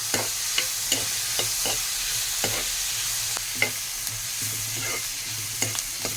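Onion, tomato and green chili frying together in a pan, a constant close sizzle broken by repeated sharp scrapes and clicks of a spoon stirring at an uneven rhythm, no talking.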